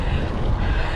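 Steady wind rushes loudly across the microphone while riding a gravel bike on Continental Terra Speed 650B tyres, a dense low roar that fills the whole second with no voice.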